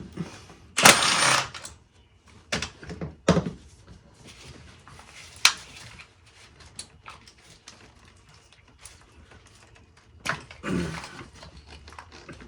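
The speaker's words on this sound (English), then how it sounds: "All right, so now what I'm doing is removing the coil packs." Mechanic pulling ignition coil packs off the engine of a Nissan/Infiniti G35 during valve cover work, giving several sharp plastic clicks and snaps in irregular bursts with quieter handling rustle between.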